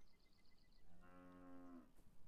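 A single cow moos once, long and low, in the Beyond Eyes video game, fairly near and alone over quiet background ambience.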